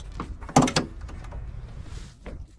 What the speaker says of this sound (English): The other door opens here as well.